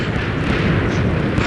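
A TNT explosion rumbles as a loud, continuous, rolling roar that fills the whole moment with no pause and no talking.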